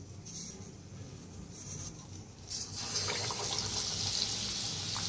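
A vada dipped into hot oil begins frying, broadband sizzling rising after a couple of seconds and continuing steadily and fairly loud, with no talk over it.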